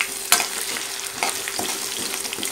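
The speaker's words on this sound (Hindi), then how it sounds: "इसको इसमें डाल दूँगी सबको अच्छी तरह से, और इसको धीमी धीमी आंच पे फ्राई करूँगी।" Cumin, black pepper and cardamom frying in oil over a low flame for a yogurt-tempered rice dish, a steady soft sizzle broken by a few sharp stirring clicks, close and alone.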